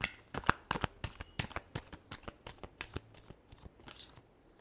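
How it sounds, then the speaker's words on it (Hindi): Tarot cards being shuffled by hand, a rapid run of crisp riffling flicks in quick rhythm, close and quiet, tapering off at the end. "last shuffle"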